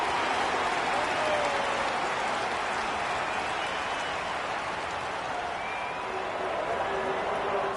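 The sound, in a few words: crowd noise at AFL match in video game AFL 26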